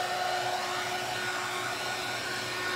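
A hair dryer blows steadily on a homemade tabletop wreath hanger to dry its paint, a loud close continuous whoosh with a steady whine running through it and no pauses.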